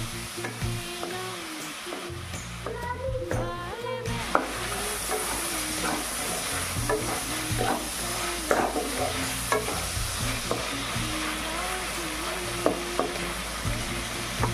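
Dried loitta fish sizzles steadily in hot mustard oil while a spatula stirs it, scraping and clattering against the pan in irregular knocks over a constant frying hiss.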